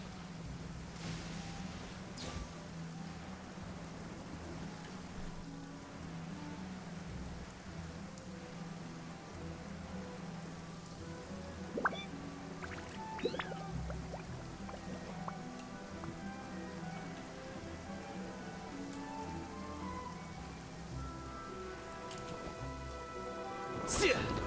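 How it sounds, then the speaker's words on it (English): Steady rain falls in the video game Genshin Impact, a continuous soft patter with a low rumble underneath and occasional brief chimes and effects over it. "This rain keeps up."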